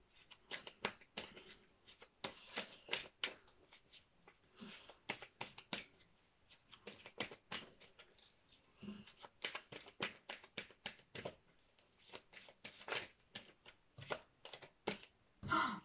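Oracle message cards handled and drawn from a deck, making a series of quick, faint papery flicks and shuffling snaps in irregular bursts, close and quiet with no speech.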